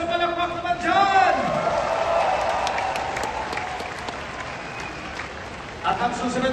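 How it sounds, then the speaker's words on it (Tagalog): Crowd applause at a Duterte Youth Party List political rally, loud sustained clapping with some cheering that swells after an announcer's voice and continues steadily, with talk over the mic at the start and end. "Isang malakas na palakpak naman dyan!"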